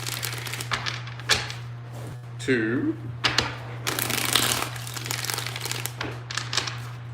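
Tarot cards are shuffled in bursts of riffling and flicking, with a steady hum underneath and a voice counting between shuffles.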